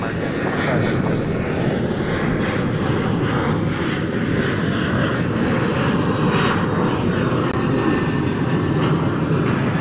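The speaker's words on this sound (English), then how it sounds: "the 767 will park and begin the process of deplaning its cargo." Continuous loud jet engine roar and rumble from a Boeing 767 cargo plane taxiing to park at DFW Airport, steady and broad with no break across the stretch.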